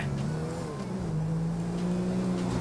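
Car engine droning steadily in GTA V, a police-patrol game mode, with a sustained motor hum rising and falling slightly throughout and no clear crash impact standing out.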